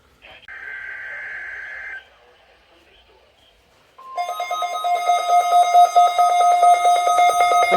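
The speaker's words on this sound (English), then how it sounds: "The preceding signal was a test of the public warning alarm system for weather radio station WMG 647" A NOAA weather radio station sounds its required weekly test: a brief data-like burst and pause, then a loud, steady two-tone alarm held alone for several seconds.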